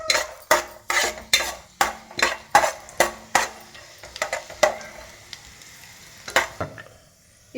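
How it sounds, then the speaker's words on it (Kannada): Rava (semolina) roasts in a pan over a medium flame, with a dozen or so sharp, regular scraping strokes of a spatula against the metal over a faint dry sizzle, then a pause. "ಮೀಡಿಯಂ ಫ್ಲೇಮಲ್ಲಿ ಇಟ್ಕೊಂಡು ರೋಸ್ಟ್ ಮಾಡ್ಕೊಳ್ಳಿ"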